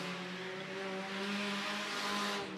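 Sport compact race cars lapping El Paso County Raceway, engines droning in a steady, sustained roar with sharp harmonic whine, close and loud throughout with no talk.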